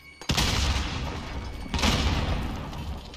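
Two loud blasts from a grenade explosion and gunfire in a video game, one right at the start and a second about a second and a half later, each trailing off into a rumbling decay.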